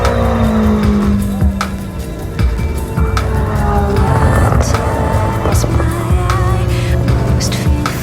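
Le Mans prototype and GT race cars lapping in the final practice session before the 24 Hours of Le Mans 2024, loud engines passing one after another with rising and falling pitch, gear shifts and constant track noise.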